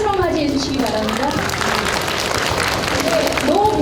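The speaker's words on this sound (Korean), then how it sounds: "큰 박수로 맞이해 주시기 바랍니다." A lecture-hall audience applauds to welcome a professor giving a talk. The applause is a dense, fairly loud wash of many hands clapping, and a speaking voice runs over it.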